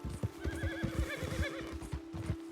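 A Silver Bay Kentucky Saddler horse in Red Dead Redemption 2 whinnies with a wavering neigh over steady clip-clop hoofbeats and a constant tonal hum, fairly close and alone.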